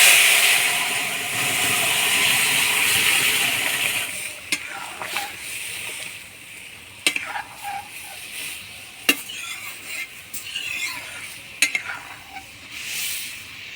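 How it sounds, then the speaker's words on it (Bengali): Dal lentils drop into hot oil tempered with chili, bay leaf, panch phoron and crushed ginger, a loud steady sizzle that fades after a few seconds, then sharp scrapes and clinks of stirring over a quieter hiss. "এবার ডাল দিয়ে দিব।"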